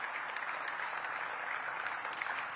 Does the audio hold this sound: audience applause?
yes